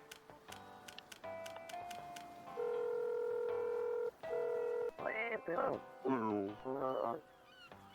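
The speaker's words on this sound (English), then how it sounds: "Can I phone Cobra?" Phone dialing in the video game Dave the Diver: a quick run of electronic keypad beeps, then steady synthesized ringing tones and warbling chirps, with cartoonish game-character babble.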